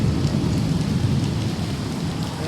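Heavy rain pours in a steady, dense roar close by, with a low rumble of thunder blended underneath throughout.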